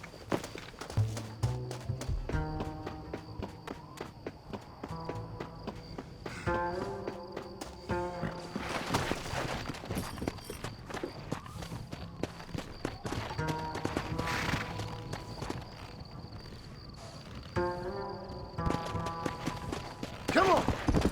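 Horse hooves clip-clop and gallop in Red Dead Redemption, a steady rhythmic drumming over music and game ambience, with a voice speaking over it.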